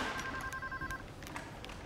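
A telephone rings with a short electronic trilling tone for about a second, heard over a busy indoor background.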